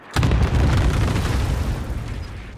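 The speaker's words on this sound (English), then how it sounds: "Designating target for airstrike." In Call of Duty: Modern Warfare, an airstrike explosion hits with a sudden loud boom, then a long rumbling roar that slowly fades over a couple of seconds.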